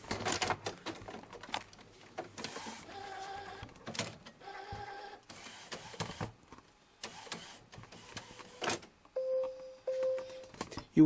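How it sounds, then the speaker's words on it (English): An Epson WorkForce WF-7620 inkjet printer with a continuous ink supply system checks its cartridges, giving off a sequence of whirring carriage movements, clicks and clunks nearby, and ending with short electronic beeps. "Now it's checking the cartridges."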